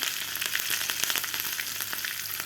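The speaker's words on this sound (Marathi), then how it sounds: "आता व्यवस्थित आपला तडका तयार झालेला आहे." Cumin, mustard seeds, finely chopped green chilies and asafoetida sizzle in hot oil for a tempering, a steady, dense crackling fry close by with no talking.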